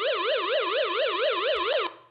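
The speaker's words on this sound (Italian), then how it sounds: "abbiamo come tipo di suoneria per l'allarme urlo del fantasma" A wailing electronic ghost-scream alarm tone from a Xiaomi home security system, sweeping up and down in a steady, rapid rhythm, loud and continuous, cutting off abruptly near the end with a brief thump.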